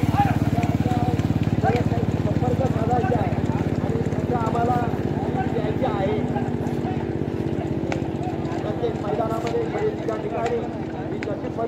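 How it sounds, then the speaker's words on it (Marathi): Hooves from racing bullock carts in a beach semifinal race thud in a fast, continuous patter while a voice talks over a loudspeaker throughout. "झेंड्याला वळसा होण्यासाठी सेमीफायनलच्या गाड्या चाललेल्या आहेत."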